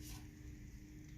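Hot dog buns sizzling in a hot frying pan on a stovetop, a steady soft crackle and hiss up close with no talking.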